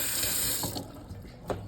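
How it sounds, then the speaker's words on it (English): Water running from a sink tap while fabric is rinsed beneath it, a steady close splashing rush with small irregular splashes. "rinse this in warm to cold water until it runs clear"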